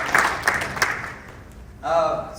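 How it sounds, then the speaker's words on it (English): A conference audience breaks into short applause, a few sharp claps rising from a dense crowd and then fading, before a voice on stage cuts back in. "Can we get some round of applause for that shit?"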